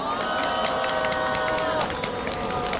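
At a street memorial for homeless people who died, a crowd gives a dense wash of applause and cheering that runs through the whole moment, with voices mixed in among the clapping.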